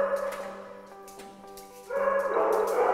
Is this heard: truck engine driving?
no